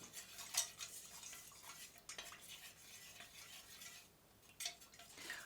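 Melted wax for wax melts gets stirred with a small metal bar spoon, giving a steady soft scraping with light clinks against the container, faint and close, no voice.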